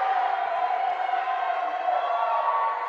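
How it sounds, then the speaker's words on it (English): A crowd at a college volleyball match between Clarion and Mercyhurst cheers and whoops loudly after a point, a sustained roar of voices across the whole moment. "The crowd getting into it."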